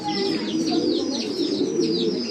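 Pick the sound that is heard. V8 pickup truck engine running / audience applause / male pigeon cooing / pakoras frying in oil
male pigeon cooing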